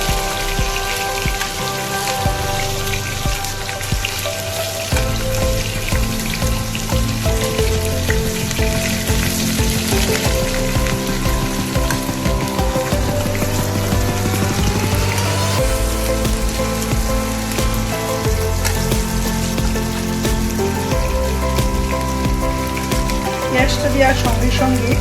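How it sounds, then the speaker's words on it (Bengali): Chopped onion sizzling in hot oil for a tempering, giving a steady, crackling frying hiss that runs continuously under loud background music. "এর মধ্যে আমি পেঁয়াজ কুচনোটা ফোড়নে দিয়ে দিচ্ছি"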